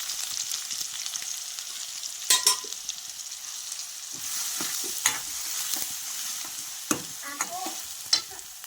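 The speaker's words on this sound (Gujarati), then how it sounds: "પેલા ડુંગળીનો જ વઘાર કરવાનો હોય" Onions frying in oil as the tempering for a rajma curry give a soft continuous sizzle, broken by sharp scrapes and clinks of a spoon stirring the pan every second or two, close by with no talking.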